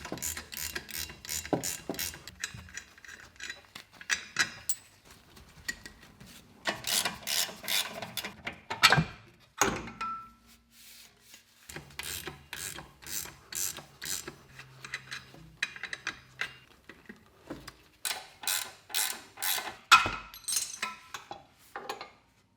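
A ratchet clicks in rapid bursts as shock absorber mount nuts, including a 17mm nut and bolt on the lower mount, are undone on a Suzuki Jimny JB74. The bursts repeat with short pauses and a few metallic clanks in between, close and fairly quiet.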